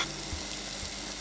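Chopped onions and small boneless chicken pieces frying in a pan, a faint steady sizzle with a couple of soft stirring knocks, no talk.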